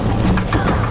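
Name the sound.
horse galloping in video game Red Dead Redemption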